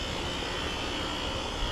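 A 2012 Grandaire HVAC unit at an apartment complex starts up with a loud, steady broadband whoosh and roar, heard close and alone with no talking.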